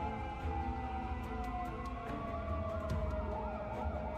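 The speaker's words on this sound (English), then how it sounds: "It's the sound of police sirens from the security department." Police sirens from a security department's vehicles outside a warehouse in the game Girls' Frontline 2, several overlapping wailing tones sweeping up and down, steady and fairly loud with no voices.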